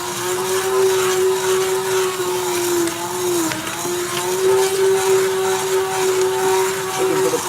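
An immersion blender purees mushroom soup with a loud, steady motor drone that dips and wavers slightly as it churns through the mixture.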